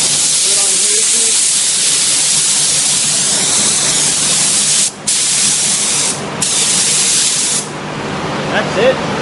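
Paint spray gun hissing steadily while spraying water-based base coat on a car panel, a loud continuous spray briefly interrupted a few times as the trigger is released.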